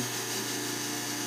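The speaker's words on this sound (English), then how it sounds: "when you're polishing, just keep it on there a couple seconds" Dental lathe polishing an acrylic temporary crown with pumice, a steady high-pitched motor whine with a buzzing edge, close and constant for a brief moment.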